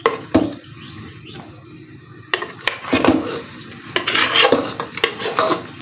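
Used coffee cups and dishes washed while cooking, heard as close clinks, clatters and scrapes of ceramic and metal with brief pauses, over a low background hiss.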